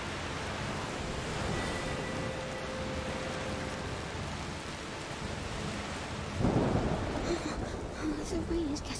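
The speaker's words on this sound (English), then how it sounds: "The rain is getting worse." Steady rain hisses throughout, and a low rumble of thunder rolls in near the end, in the video game A Plague Tale: Requiem.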